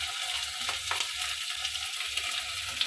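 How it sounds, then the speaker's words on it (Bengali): Shrimp frying in a pan with ginger paste and cumin paste, a steady close sizzle with soft scraping stirs throughout, no voices. "আদা বাটা দিয়ে কিছুক্ষণ নাড়াচাড়া করার পর এবার দেব জিরে বাটা"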